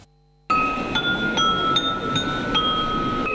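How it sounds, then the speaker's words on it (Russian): Crystal glasses clink together several times, each strike leaving a bright, sustained ringing tone over a soft background murmur. "Такой хрустальный звон бокалов – гордость отечественных производителей"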